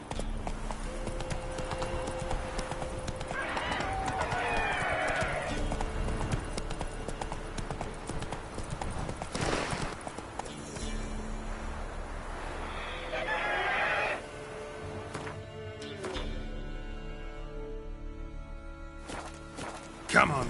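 Roach, the horse in The Witcher video game, gallops with steady, close hoofbeats and gives a couple of loud neighs. A voice speaks briefly over the hooves, and a sharp burst comes at the end.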